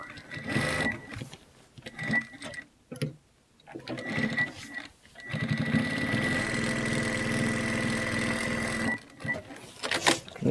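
A home sewing machine stitches a frill onto lace trim for a linen apron, whirring in steady runs broken by brief pauses, fairly close and alone.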